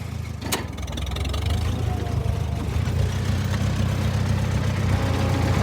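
A farm vehicle engine during silage work runs at a steady, loud, low rumble as it pulls forward in first gear, with a sharp click near the start and no voices.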